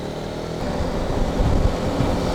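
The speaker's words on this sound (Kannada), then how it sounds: "ಸೂಪರ್ ಬೈಕ್ಸ್ ಹೋಗ್ತಾ ಇದ್ದಾವೆ ನೋಡಿ ಈ ಕಡೆ." Superbikes, among them a Suzuki GSX-R and a KTM, riding past on a road with traffic, their engines a steady, fairly distant roar and rumble with no talk over it.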